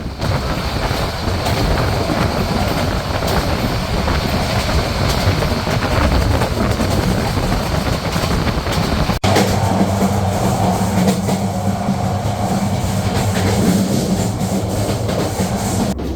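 The Parjotak Express crossing the Ashuganj–Bhairab railway bridge over the Meghna River, a loud continuous rumble and rattle of wheels and carriages heard close up, steady throughout with a shift in tone partway.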